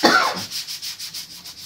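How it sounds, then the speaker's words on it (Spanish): A hand works 180-grit wet sandpaper over wood on kitchen corner cabinetry, a loud opening scrape followed by even, rhythmic back-and-forth rubbing strokes about five per second, close and alone. "En la tienda de pinturas es lija de agua 180."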